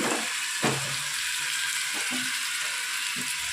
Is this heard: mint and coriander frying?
yes